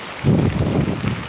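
Steady wind buffeting the microphone during a typhoon in Cavite, a low rumbling roar that swells and holds throughout, with no voices.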